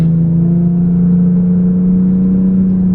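A Nissan 370Z fitted with a Stillen Gen 3 cold air intake drones steadily from the cabin, its engine note a constant low hum that holds for about three seconds with no talk over it.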